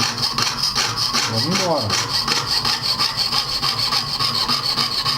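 A jeweller's saw cuts through metal in steady back-and-forth strokes, a rhythmic rasping close up; a voice speaks briefly.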